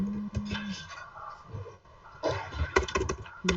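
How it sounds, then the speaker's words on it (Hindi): Computer keyboard typing gives scattered, irregular clicks, clustered toward the end. Other faint tonal background sounds mix underneath, and no one speaks. "टाइपिंग की आवाज आ रही है"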